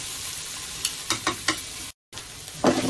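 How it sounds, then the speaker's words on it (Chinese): Garlic, ginger and scallion stir-frying with satay sauce in a wok over high heat, a steady sizzle broken by several scraping strokes of a spatula, a brief gap, then a louder hiss, close up with no voices. "先猛火爆下佢"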